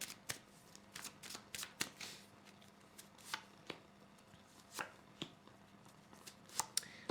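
Cards are shuffled in a series of quick riffles and snaps, irregular crisp bursts close by at low volume.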